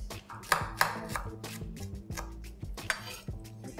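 A knife chops onion, tomato and cucumber finely on a board for garnish. Several crisp, irregular strikes are heard close up, with light clinks like dishes and utensils between them and no voices.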